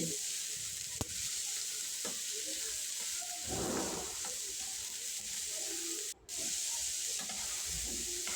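Vegetables for veg Hakka noodles frying in a hot pan, a steady broadband sizzle running throughout with occasional scrapes of stirring, close and fairly loud, with a brief gap near the end.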